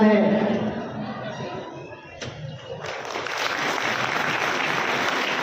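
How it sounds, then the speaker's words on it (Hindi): At a tribal day gathering in Harda, an audience breaks into applause to welcome the guests. A speaking voice comes first, then sustained clapping from many hands fills the rest of the clip. "कृपया तालियों से स्वागत जरूर करें हमारे अतिथियों का"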